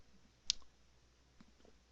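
Computer mouse clicks sound faintly in a quiet room: one sharp, crisp click, then a softer one about a second later.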